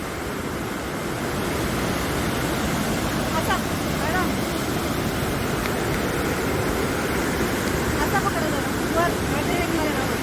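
Water pours continuously at Kondgaon Dam during a rainy-season outing, a steady broadband rushing roar close by, with faint voices in the background.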